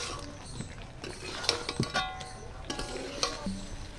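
Fried potatoes are stirred into aloo biryani in a pot, with scattered metallic clinks and scrapes of the spoon against the vessel, quiet and close, with some faint background noise.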